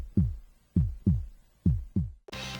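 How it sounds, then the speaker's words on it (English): A slow, deep heartbeat thuds five times at a steady tense pace from the horror adventure game Dead of the Brain, each low pulse decaying before the next, then a brief burst of brighter noise cuts in at the end. "a lot of the game has either no music at all, or the sound of a heartbeat to add tension"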